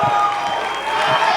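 A Texas crowd at a heated boxing press conference cheers and applauds in a steady, dense roar of clapping and shouts that holds for the whole moment, with no gaps.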